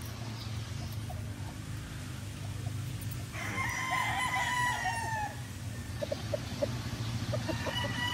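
A White Pit Boston Millionaire gamecock rooster, kept tied, crows once at mid distance over a steady low hum and faint background noise, followed by a few short clucks.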